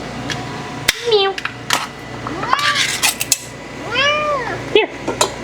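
A cat meows several times, rising and falling cries spread across a few seconds, close by, with a brief clap and some quiet background noise.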